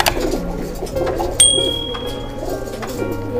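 Soft, low coos from a female high flyer pigeon repeat in the background, with a brief high whistle-like tone cutting in partway through.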